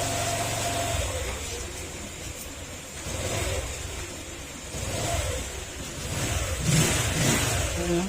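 A Honda Click scooter idles after an idle screw adjustment, a mid-pitched engine running steadily with slight rises and dips in level, close by and alone.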